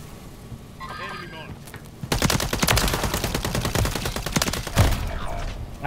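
Rapid bursts of automatic gunfire erupt in a video game gunfight, dense and loud for several seconds after a quieter stretch, with voices talking underneath.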